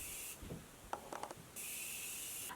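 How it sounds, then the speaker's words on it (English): Two bursts of fine setting spray hiss onto a face, one short and one longer, close up, separated by a few soft handling sounds. "So I'm going to go ahead and spray this on."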